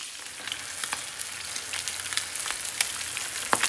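Pomfret fish frying in a pan over a medium gas flame: a steady, fairly close sizzle with scattered sharp pops and crackles spread through the whole stretch, no voices.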